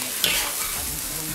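Mushrooms and eggs are stir-fried in a wok with a steady close sizzle and a quick scraping stir near the start.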